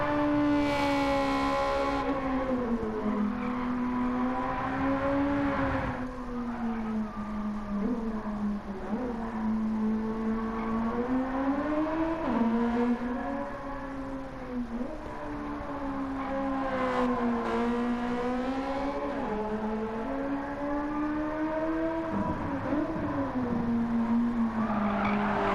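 A front-wheel drive car from the used-car menu in Gran Turismo 7 drives steadily for the whole stretch, its engine humming and shifting pitch loudly and continuously as it rises and falls through the revs.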